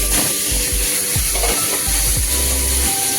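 Potato and green banana pieces, coated in salt and turmeric, sizzle steadily in hot oil in a pan already used for frying fish. Close, continuous frying hiss runs throughout, broken by several scraping stirs of a spatula and no talking.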